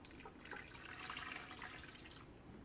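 Water pours into a pressure cooker pot in a kitchen, a soft, continuous splashing trickle that swells briefly in the middle before settling.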